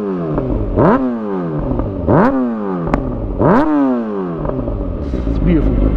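Motorbike exhaust revving up three times in a rising, falling pattern, with crackles, pops and bangs between revs; loud and close, no talking.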